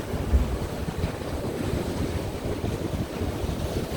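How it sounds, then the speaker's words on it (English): Wind blows steadily across a UK beach by the sea, a broad close rushing roar with microphone buffeting and surf mixed underneath, continuous and fairly loud with no voices. "the wind is coming from behind me into this direction"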